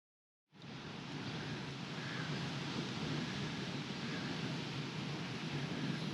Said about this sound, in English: This is the weather and the road and the headwind.